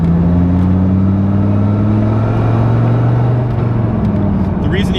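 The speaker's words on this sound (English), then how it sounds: "Go ahead and accelerate." A Dodge Viper with a manual transmission accelerates from inside the cabin, its deep engine note rising steadily and loud for several seconds, with a voice talking faintly over it.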